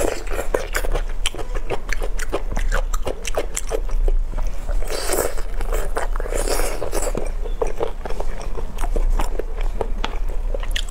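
Close-up eating of pork fat with spicy noodles, loud moist biting and chewing with sticky smacks and crunchy bursts repeating throughout.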